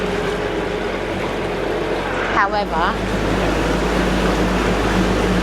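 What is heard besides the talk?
narrowboat engine revving inside canal tunnel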